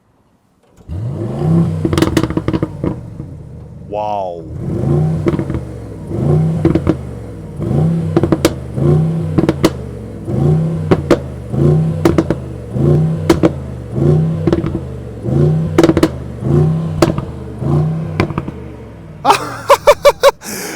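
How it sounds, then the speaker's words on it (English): A Mercedes-AMG GLE 63 S Coupe V8 engine revs repeatedly in rhythmic bursts, loud and close, with a deep burbling exhaust between pulses and one brief exclamation from a person. "we will be hearing the proper V8 sound coming from the AMG exhaust tip"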